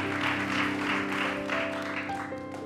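Studio audience applause for Anies Baswedan on the Hotman Paris Show, a steady, dense clapping that holds at an even level throughout, with a faint background tone underneath and no one speaking.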